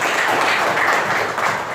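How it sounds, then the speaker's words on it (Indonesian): A classroom of students claps together during a lesson, a short burst of dense, even clapping that fills the room and stays loud throughout. "Tepuk tangan kita semua."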